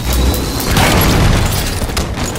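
A grenade explodes in the Halo 5 video game, a loud, deep boom that swells at once and rumbles on for a couple of seconds amid dense game noise.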